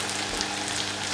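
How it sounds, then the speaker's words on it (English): Sausages, onions and rosemary sizzle in very hot oil heated in the oven, a steady, dense crackling hiss that holds evenly throughout at close range. "As you can hear, the oil is really, really hot. It needs to be like sizzling,"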